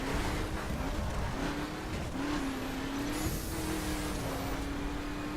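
Chevrolet Silverado pickup modified to circuit spec racing in The Crew, a steady high-revving engine drone with a sustained tonal whine, loud and continuous, with faint tire noise as the truck drives through corners.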